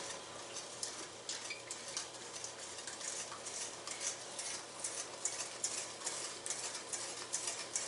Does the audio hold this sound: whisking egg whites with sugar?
yes